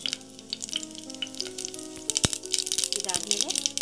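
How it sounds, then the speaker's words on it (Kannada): Mustard seeds, cumin and dried red chillies crackle and sizzle in hot cooking oil in a pan, a busy, close, continuous frying hiss with sharp pops, heard under a speaking voice. "ಎಣ್ಣೆ ಬಿಸಿ ಆದಮೇಲೆ ಸಾಸಿವೆ, ಜೀರಿಗೆ, ಇನ್ನು ಒಣಮೆಣಸಿನ್ಕಾಯಿ ಹಾಕೊಂಡ್ಬಿಡ್ಬೇಕು."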